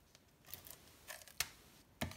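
Scissors snip through craft material in a few quiet, separate cuts, close by in an otherwise hushed room, with no talking.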